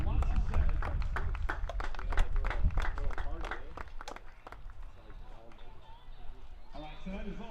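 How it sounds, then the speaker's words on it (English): Crowd at a high school baseball game, Wausau West at Medford, applauding the parents: a dense wash of claps that swells at first then thins and fades, with an announcer's voice and crowd chatter running underneath. "Let's give all of our parents a warm round of applause."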